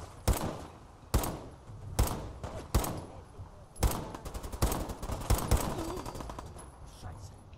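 Gunfire in Fallout 4, single sharp shots spaced about a second apart, then a faster burst of automatic fire, loud against a quiet background.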